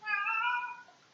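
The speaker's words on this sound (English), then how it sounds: "Oh, that's my cat meowing." A house cat gives a single clear, drawn-out meow lasting about a second, close to the microphone, with nothing else heard.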